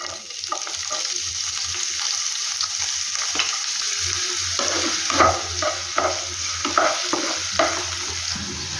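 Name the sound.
frying chopped onion in a pan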